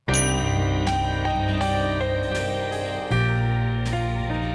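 Excerpt from a soundtrack piece, with mellotron strings sustaining beneath bright, bell-like struck tones that ring out in a steady, loud run of notes, no voices.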